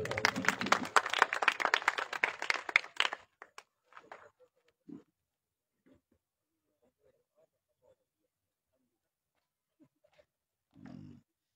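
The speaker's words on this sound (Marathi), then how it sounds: "दिघे साहेबांसाठी टाळ्या होऊ द्या." A crowd at a rural assembly election campaign rally applauds in a dense burst for about three seconds. A few scattered claps follow, then near silence with faint stray noises.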